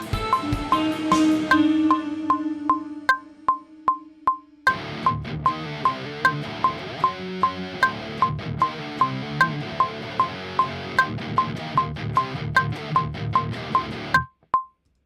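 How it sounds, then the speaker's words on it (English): Rhythmic strummed guitar chords play over a steady beeping click, stopping abruptly near the end with a couple of isolated clicks. "This will be one of the guitars."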